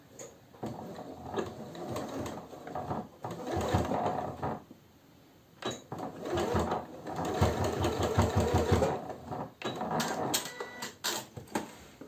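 A sewing machine stitches short bar tacks at the ends of a trouser pocket on women's pants, with close, rapid mechanical chattering in several bursts separated by short pauses, and no talk.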